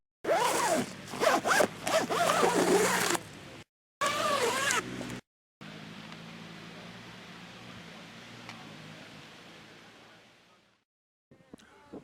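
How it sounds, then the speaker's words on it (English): A tent's front door being zipped up either side at a tarp and tent camp, heard as two close bursts of rapid ratcheting zipper sound, then a long quieter stretch of faint hiss. "zip it up either side"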